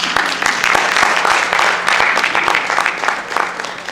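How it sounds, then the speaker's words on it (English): A school audience bursts into loud, dense applause after an author's book talk, a continuous wash of many hands clapping close by. "Let us give Dr. Atuahene another round of applause"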